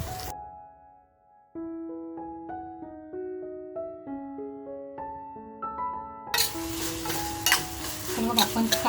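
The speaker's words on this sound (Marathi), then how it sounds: "तर मग आपण काजू छान अगोदर फ्राय करून घेऊया." Cashews frying in oil in a pan for a dry prawn dish: a steady sizzle rises in the last few seconds over gentle melodic music that plays throughout.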